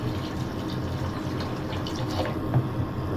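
Tap water runs steadily into a cooking pot to make Filipino beef stew, a continuous close splashing rush with faint drips over a busy kitchen background, no talking.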